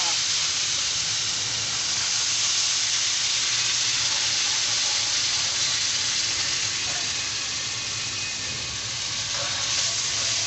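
Sugar syrup poured into roasted semolina for suji halwa hisses and sizzles loudly and steadily, a dense steam-like rush that barely lets up, with no talk over it.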